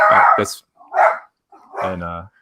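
A small 14-pound Jack Russell Chihuahua mix dog barks three times in quick bursts, close and loud, the last bark trailing into a longer yip or whine.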